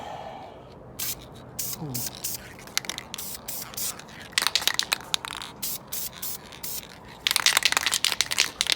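Aerosol spray paint can laying light coats on a 1994 Ford Mustang Cobra SN95 engine part, several short hissing bursts of varied length separated by pauses, with faint rattling and handling noise between them.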